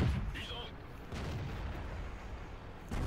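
Cannon shots from a Chi-Ri tank in the World of Tanks video game come as several sharp, booming blasts spaced a second or two apart, each with a short rumbling tail over steady battle noise.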